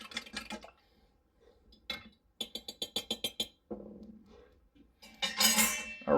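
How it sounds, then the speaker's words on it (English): A spoon clinks against a pot while stirring honey into warm elderberry syrup, giving a quick run of close, sharp metallic taps followed by a louder scraping swirl, with quiet gaps between. "I apologize about all the noise in regards to the stirring it"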